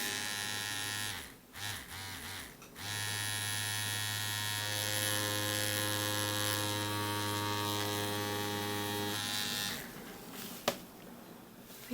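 Tattoo machine buzzing steadily while practising a flower design, a loud close electric hum that stutters briefly near the start, runs continuously, then stops with a small clack near the end.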